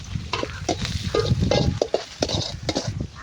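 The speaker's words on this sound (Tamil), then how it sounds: "கேரட்டு பீன்ஸும் போட்டு வதக்க போகிறோம்" Onion, carrot and beans sautéing in a pan, a steady sizzle broken by repeated scraping and stirring strokes, close and fairly loud with no voices.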